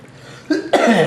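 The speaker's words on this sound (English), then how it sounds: "Excuse me for coughing." A pair of sharp, close coughs in quick succession over a quiet room hum.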